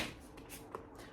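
A deck of cards being shuffled by hand, a brief close riffle of papery flutters and soft snaps, quiet and isolated with no talk.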